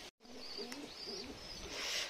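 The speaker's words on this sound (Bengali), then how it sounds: "এখানে দেখছি একটা পায়রা ঘুরছে" A pigeon coos softly nearby, a few low rolling calls in a quiet room with faint background hiss.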